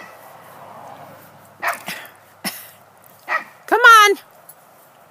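A dog barks sharply toward a neighbour's yard, a few separate loud barks ending in a longer yelping howl, with a person speaking briefly between them.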